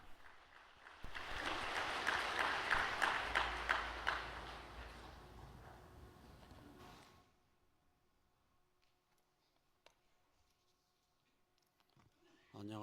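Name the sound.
audience applause welcoming the speaker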